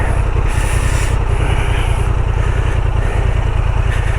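A Honda Transalp 750 motorcycle idles steadily while riding slowly off-road, its low, rapid engine pulse continuous and close throughout, with rough scuffing and rubbing noise layered over the drone.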